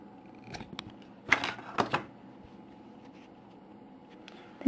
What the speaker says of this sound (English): you're going to take your scissors and you're going to cut the loop